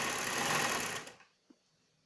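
A sewing machine stitches a frill onto a shirt with a loud, close, continuous whir that stops abruptly, leaving near silence and a small click.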